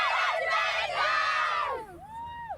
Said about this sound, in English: let's make sure we get one last Shine On Tibet Girls cheer